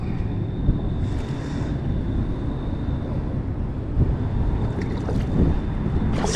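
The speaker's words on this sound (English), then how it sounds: "So the wind is getting out of control." Strong wind on a lake in suburban Orlando buffeting the microphone in a constant loud rumbling roar, with water splashing and faint boat sounds beneath, no talking.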